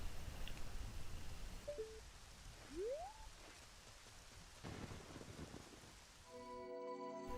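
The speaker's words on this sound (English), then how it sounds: "the sound of the rain only thing accompanying her journey" Quiet, steady rain hisses through the Majora's Mask field while a few faint tonal game sounds pass over it.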